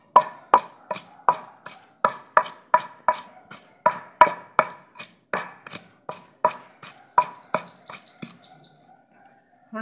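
Half a tomato being pounded for soybean pakoras in a village-style Punjabi kitchen, a steady series of sharp, evenly spaced thuds, close and loud, slowing near the end with faint birdsong behind.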